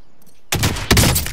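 Gunfire from an enemy player in a video game: after a moment of near silence, two loud close bursts of shots crack out in quick succession.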